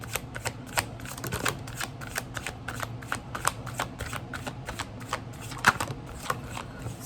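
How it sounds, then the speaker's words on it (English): A Gilded Tarot deck being shuffled and drawn, with a steady run of close, crisp card flicks and riffles repeating in quick, irregular bursts throughout. "Let's get some cards from the Gilded Tarot."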